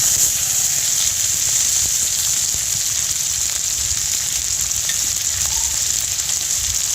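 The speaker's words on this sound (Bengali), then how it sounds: "এবার একটা মিডিয়াম সাইজে টমেটো কুচি করে নিয়েছি, সেটা সবটা দিয়ে দেব।" Chopped medium-sized tomato fries in a hot pan with onion and garlic paste for a fish-roe dish, producing a loud, steady, unbroken sizzle close by, with no voices.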